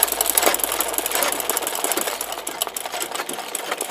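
An electric sewing machine running continuously, a fast buzzing whir with a rattling stitch rhythm, close up and with no voices.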